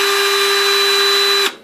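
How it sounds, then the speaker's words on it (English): A power drill with a bit boring through the glass of a 20-gallon aquarium tank, a loud steady high whine that holds level and then cuts off sharply. "Let the weight of the drill do all the drilling, and just hold it."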